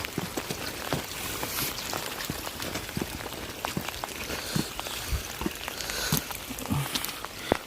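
Rain falling steadily on a high hill road through tea gardens in Darjeeling, a dense patter of drops with scattered sharper taps, fairly close and continuous with no voices.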